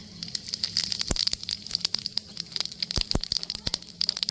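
White cumin seeds sizzle and crackle in a spoonful of ghee and oil, a faint steady hiss punctuated by sharp irregular pops, close and without speech.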